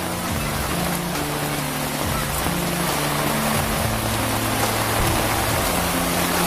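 Heavy rain pours down under a dark sky, a dense, loud, constant roar close by, with low tonal hums running underneath.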